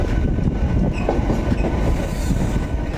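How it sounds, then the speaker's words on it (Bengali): A train at New Delhi railway station rumbles and clatters with a steady wheel-on-rail noise that fills the whole stretch, fairly loud and close, with no talking. "এটা হচ্ছে নিউ দিল্লি স্টেশন।"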